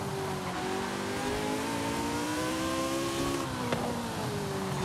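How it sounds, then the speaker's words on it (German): Ariel Atom in the racing game Forza Horizon 5, its engine revving with a rising and falling whine and rasp as it drives, loud and continuous with a brief sharp click near the end. "Der Ariel Atom fährt sich tatsächlich richtig geil."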